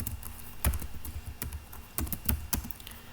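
Someone types code on a computer keyboard in short bursts of separate key clicks with small pauses between them, close by but quiet.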